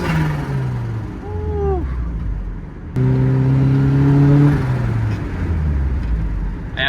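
A turbocharged Mazda Miata engine with a custom exhaust revs on a cold day, rising and falling through two loud, close bursts with swooping turbo whine, no talk.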